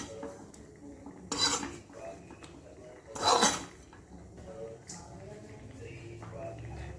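Dry roasted coconut is scraped out of a pan while cooking a village-style black masala drumstick curry: two sharp metallic spatula clanks against the pan amid softer scraping and stirring, with a voice faint in the background.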